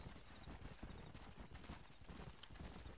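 Horse hooves clip-clop at a gallop in the Red Dead Redemption video game, a steady rapid rhythm of hoofbeats heard faintly and continuously with no talking.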